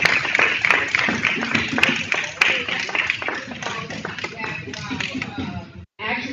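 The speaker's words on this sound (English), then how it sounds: "Give him a round of applause." Audience applause at a community gathering on youth and discipleship, dense continuous clapping from many hands with some voices mixed in, fading briefly near the end.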